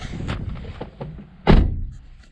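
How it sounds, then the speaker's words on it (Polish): A single solid thunk of a car door shutting close by, preceded by light rustling and handling noises. "przymknę sobie drzwi, bo troszeczkę wiatr wieje."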